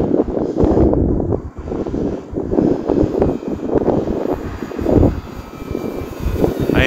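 FMS Pitts V2 1400mm electric RC aerobatic biplane flying on a windy, sunny day, its motor droning continuously and rising and falling in pitch as it passes, mixed with steady wind buffeting on the microphone.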